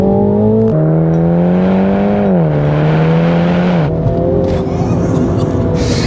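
Engine note of a MINI GP3 heard from inside the cabin, a loud sustained tone that climbs and drops as the car accelerates and shifts gears, with steady road noise underneath and no talking.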